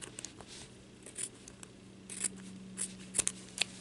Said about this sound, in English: I'm just going to cut off a little piece right here in the corner.